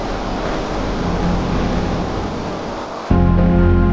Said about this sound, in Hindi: ये खूबसूरत मंजर औसानी नदी का है